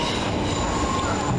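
Metro train in Sofia heard from inside a car, with steady loud rolling rumble and a faint high wheel squeal running throughout, no talking.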